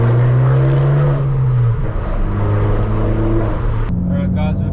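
An Abarth 595 Turismo accelerates with its exhaust droning loud and close, the engine note rising steadily before a brief drop and a fresh pull.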